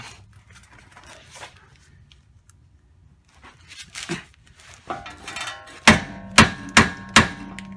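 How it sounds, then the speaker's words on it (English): A hammer taps a bolt into the lower control arm of a 2009 Mustang GT. Faint clunks and scraping come first, then four sharp, ringing metallic taps in quick succession, loud and close. "You might try tapping it with a hammer."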